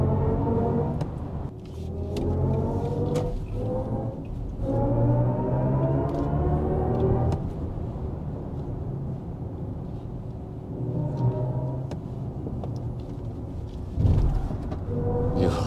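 Wind rushes steadily around a BMW i5 eDrive40 electric sedan while it is driven quickly and overtakes, a continuous near roar under a low road rumble, with no talk.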